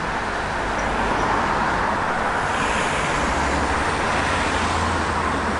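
Steady city street traffic in a large town, a continuous broadband roar of passing cars and road noise with a low rumble of heavier vehicles, no voices.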